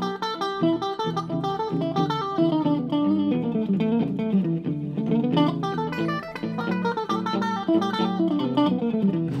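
A melodic solo on the E blues scale runs over backing chords as a steady stream of plucked notes with a loose, phrased rhythm, clear and up front with no talking.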